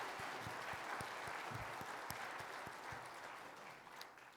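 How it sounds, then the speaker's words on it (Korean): Congregation clapping during a Christmas service at a Korean church, a steady wash of applause with some nearby distinct claps, fairly faint and distant throughout. "우리 그 예수님께 박수로 영광을 올려드리기를 원합니다."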